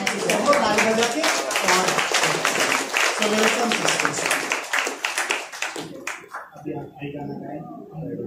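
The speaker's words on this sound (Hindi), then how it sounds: "सबको ताली बजा के" A crowd of people clapping together at St. Anthony's feast, loud dense applause that carries on steadily, then thins out and fades as a voice speaks over the last part.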